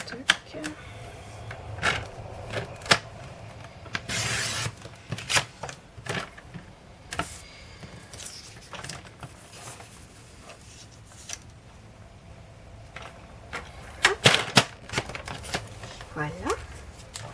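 Paper card being cut for a small Christmas pouch, with scattered snips, taps and rustles of paper and tools at close range, some louder bursts near the start and end, under quiet background.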